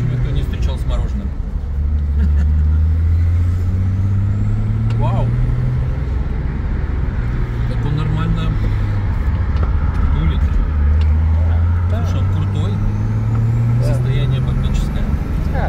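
A 1982 Nissan Skyline Turbo drives along with a loud, steady low engine drone that rises and falls through gear changes, while people talk inside the car over it.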